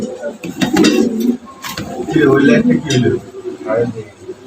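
Modena pigeons, a male and female pair, coo softly in a loft while someone talks loudly over them throughout.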